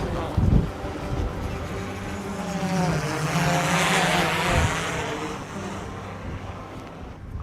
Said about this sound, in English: he's flying a mini drone.